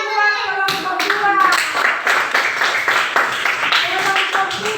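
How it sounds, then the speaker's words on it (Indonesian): A group of schoolchildren clapping for a classmates' group in rapid, uneven bursts, loud and close, with a voice speaking briefly at the start. "Tepuk tangan buat kelompok 2."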